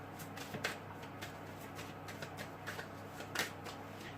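Tarot cards are shuffled by hand in soft, quiet riffling bursts with a steady papery rhythm and a few sharper flicks, heard close up and alone.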